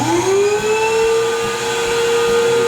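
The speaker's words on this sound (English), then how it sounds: "So you turn your vacuum on. This is going to be loud." A record cleaning machine's vacuum motor sucks cleaning fluid from vinyl grooves, a loud, close, steady whine with a tone that rises as the motor spins up and then holds.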